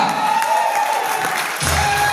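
An audience applauds at a Bihar event welcoming Ashutosh Kumar, a dense steady wash of many hands clapping at close range with some crowd murmur, holding throughout and swelling slightly near the end.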